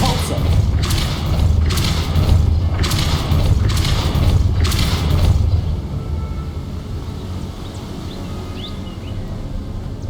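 Depulso spell cast repeatedly in Hogwarts Legacy, five loud forceful whooshing blasts in steady succession over a low rumbling game ambience, then quieter background alone.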